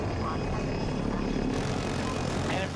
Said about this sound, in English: Is that an enemy chopper below us?